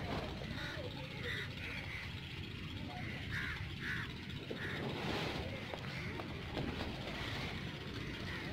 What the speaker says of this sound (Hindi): कौवा तो अभी खाएगा क्या?